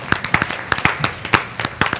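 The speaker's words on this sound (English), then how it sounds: "So let's clap it up for them." Scattered applause from a small audience at a county school board meeting: a handful of separate, uneven claps over two seconds with no talking.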